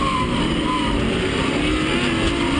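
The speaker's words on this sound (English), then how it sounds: "Bully Dog truck pulls off." Pro2 off-road race truck in a Lucas Oil Racing Series event pulling away, a steady loud engine drone with whining harmonics and broad track noise throughout.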